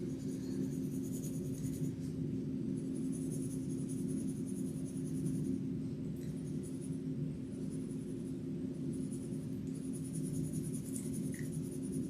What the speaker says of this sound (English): So light, pressure, circular motions. I'm holding the pencil at the end of it.